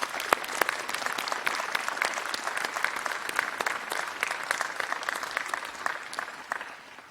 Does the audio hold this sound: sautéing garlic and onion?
no